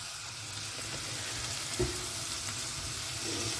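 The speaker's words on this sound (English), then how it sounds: "onion and garlic a little bit fry till start to be soft." Onion and garlic softening in a pan for salted cod fritters give a steady, close, low sizzle that holds evenly throughout, with one brief soft knock near the middle.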